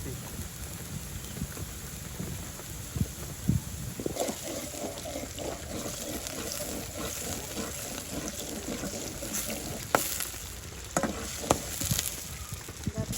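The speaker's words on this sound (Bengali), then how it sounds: "ছায়া মাছগুলো কষায় নিব আগে ভাগে এই জন্য দিয়ে দিচ্ছি ছায়া মাছের তেল" Small river fish, chiring and chaya, saute in fish oil over a village cooking fire in Hatiya, giving a steady sizzle with clattering stirs and occasional knocks, while outdoor wind and a voice sit in the background.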